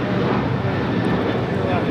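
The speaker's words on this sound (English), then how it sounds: "Alaska Airlines 1374 taking off to Laredo on a 737-900 ER" Alaska Airlines Boeing 737-900ER taking off at LAX, a steady loud roar of jet engines filling the air throughout, with a voice talking faintly over it.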